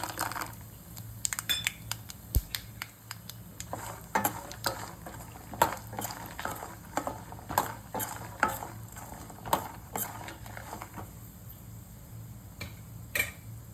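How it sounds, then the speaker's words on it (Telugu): Peanuts tumble into a pan already holding dried red chilies and asafoetida for pulihora karam, giving a quiet, steady patter of small clicks and light rattles. "పల్లీలు కూడా వేసుకుందామండి"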